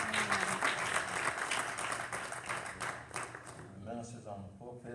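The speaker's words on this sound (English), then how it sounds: "let's give a round of applause to this great pastor" Church congregation applauding a pastor during a service, moderately loud clapping under someone speaking over a microphone, with the applause thinning out toward the end.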